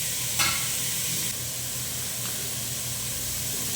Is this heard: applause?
no